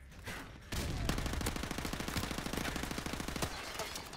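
Rapid automatic gunfire in Call of Duty Modern Warfare Remastered, a long sustained burst of close, punchy shots in a fast even rhythm, with a brief quieter shot or two before it starts.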